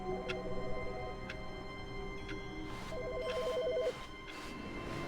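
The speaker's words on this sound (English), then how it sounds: "I hear a phone ringing." A phone rings in The Stanley Parable: Ultra Deluxe, two bursts of a warbling electronic trill separated by a pause, heard over soft game ambience with occasional clicking footsteps.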